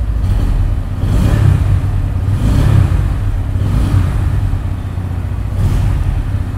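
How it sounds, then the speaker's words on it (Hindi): A 2024 Bajaj Pulsar N160 motorcycle engine is revved up several times at close range, its loud exhaust swelling and falling in repeated bursts. "रेव करते हैं बाइक को ना थोड़ा"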